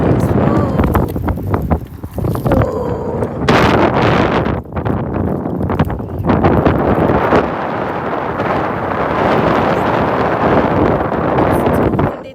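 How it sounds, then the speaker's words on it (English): Strong gusts batter the microphone outdoors near a treetop bird's nest, producing loud, ragged, booming rumbles that come in bursts with brief lulls, and a voice is heard now and then. "It's too windy today."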